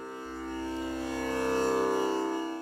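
A virtual tanpura drone from the Lumbeat Indian Drummer tabla app plays a quiet, steady, shimmering harmonic hum with a low tone entering just after the start and holding throughout.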